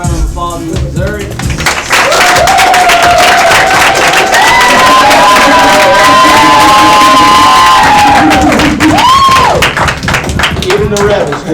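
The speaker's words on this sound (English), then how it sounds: "everybody give another round of applause to Zurek." A large crowd claps and cheers loudly and continuously, with whoops and shouts rising over steady applause throughout.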